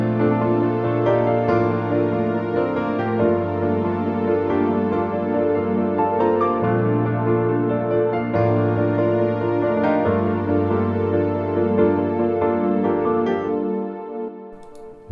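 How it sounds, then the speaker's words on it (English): Layered Logic Pro keyboard session players: sustained synth pad chords under a rhythmic arpeggiated piano line, steady and full, fading out at the end. "So let's add in a couple more keyboard players here."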